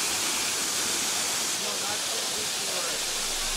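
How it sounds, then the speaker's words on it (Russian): Steady, loud broadband roar of cascading water at a Costa Rican waterfall, continuous and close with no breaks. "Следующая локация, куда мы приехали, водопады"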